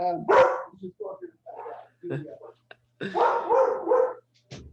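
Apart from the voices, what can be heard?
short-haired pointer dog barking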